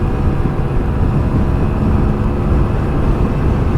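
A 2021 Vespa Primavera S 125 scooter engine held at full throttle while riding, a loud, steady droning roar mixed with heavy wind rush and no let-up.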